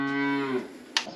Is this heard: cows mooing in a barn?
yes